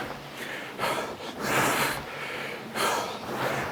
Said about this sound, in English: We're trying to swallow and breathe